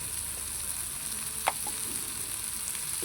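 Onions with a light pinch of turmeric frying in a pan, for an egg stir-fry, a soft even sizzle throughout with a single brief scrape in the middle, no talking.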